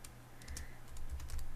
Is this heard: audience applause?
no